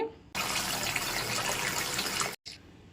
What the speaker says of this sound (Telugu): దీన్ని నిండుగా నీళ్ళు పట్టేసుకొని ముక్కలు నిండినంత వరకు నీళ్ళు పట్టేసుకుంటే